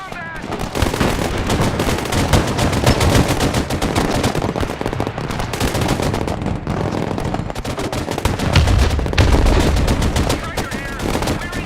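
Relentless gunfire pours onto an armored transport in the Broken Arrow video game: dense machine-gun bursts and heavier booming impacts blend into a loud, continuous battle roar with no pauses.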